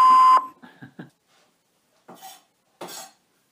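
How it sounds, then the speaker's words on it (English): An answering machine gives a short, loud electronic beep at the start, followed by faint clattering and a couple of brief rustling thuds, then quiet. "please leave a message after the beep."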